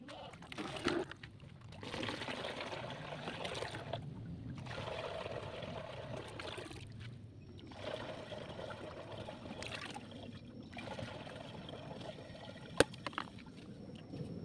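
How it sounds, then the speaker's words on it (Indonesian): Water trickles and pours steadily into a plastic water gallon fitted with a newly installed tap, a continuous mid-level splashing flow with brief pauses and a sharp click near the end, no voices. "Nanti kita akan tes, kita akan isi air apakah ini masih bocor atau tidak."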